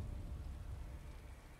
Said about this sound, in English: the rain's a nice effect